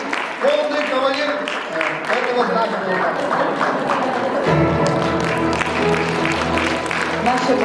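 Audience applause at a 75th anniversary jubilee evening, a busy patter of clapping mixed with crowd noise and voices, with music or a deeper hum coming in halfway through.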